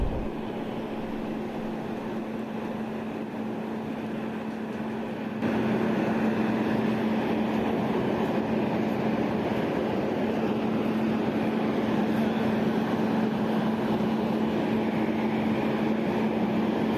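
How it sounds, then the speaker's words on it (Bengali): The new locomotive of the 13147 Uttarbanga Express, which suffered an engine fault at the start, idles with a steady low diesel hum that grows louder partway through and continues alone. "এই দেখতে পাচ্ছেন নতুন ইঞ্জিন একদম।"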